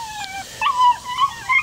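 A nine-week-old black female puppy whimpers in thin, high, wavering cries, several drawn-out whines following one another at close range.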